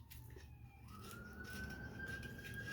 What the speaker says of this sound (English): I hear the old siren.